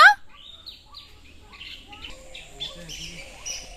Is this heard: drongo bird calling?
yes